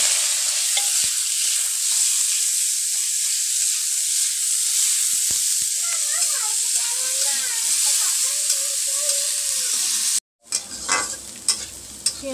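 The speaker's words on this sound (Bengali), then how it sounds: "পেঁয়াজগুলো ভাজা হচ্ছে" Chopped onions frying in oil with green chili, minced garlic and whole poppy seeds, a steady close sizzle with occasional stirring scrapes, ending in a brief cut and a few louder clatters.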